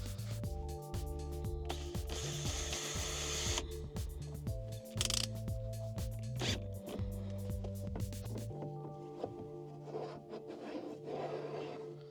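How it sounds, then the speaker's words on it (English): Screws being driven by hand to fix a part onto a DIY campervan sliding table, giving a run of close, repeated ratcheting clicks and mechanical rubs over a steady tonal background, with no talk. "Right then, I'll get some screws and we'll screw this on."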